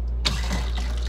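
Water running into the fresh-water tank of a 1973 GMC motorhome, a steady broadband rush that starts abruptly and continues at an even level, close by with no talk.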